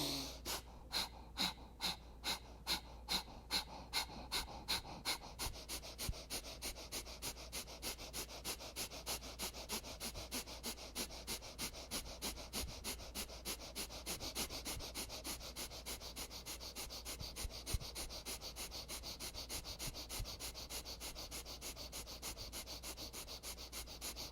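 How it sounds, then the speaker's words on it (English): Breath of fire yoga breathing, with rapid, forceful nasal exhales in a steady pulsing rhythm that starts slower and distinct, then quickens into a fast continuous chuffing, close and fairly quiet. "Slow, steady breath of fire growing faster."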